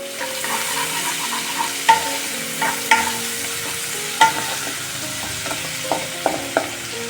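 Finely chopped garlic and onion fry in oil for a gravy, a steady soft sizzle with scattered crackles and utensil taps against the pan.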